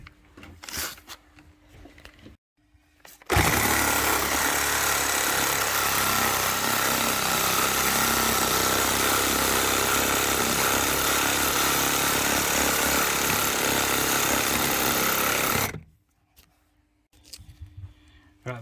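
A reciprocating saw cutting through copper pipe, one loud, steady buzzing run of about twelve seconds that starts and stops abruptly, with brief handling noise before and after.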